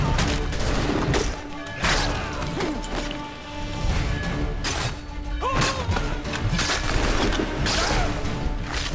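Gunfire and crashing combat clashes from the video game Assassin's Creed III, a dense run of loud bursts and impacts over game music, with no talking.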